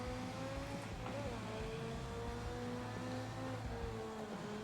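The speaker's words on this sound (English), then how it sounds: "The supercharger mixed with the way that exhaust sounds and the intakes." A 1983 Lancia 037 Stradale's supercharged engine and exhaust drone steadily from inside the car, with a sustained whine that shifts slightly in pitch, and voices talking over it.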